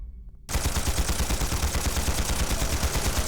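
Rapid automatic gunfire in the video game Trails through Daybreak, a dense, loud, evenly pulsing burst that starts abruptly after a short quieter moment and continues steadily without talk.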